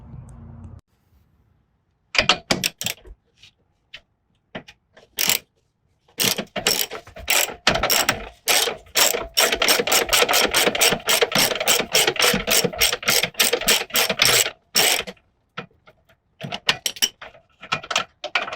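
A ratchet wrench loosening a bolt during a 2.5-inch lift install on a Jeep Gladiator, with long runs of rapid metallic clicking broken by short pauses, close and loud with no talking.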